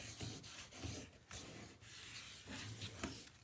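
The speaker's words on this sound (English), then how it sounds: "we're going to give it a good burnish" A burnishing tool rubs firmly across paper on a mini album panel in repeated scraping strokes, close and dry, with no voices.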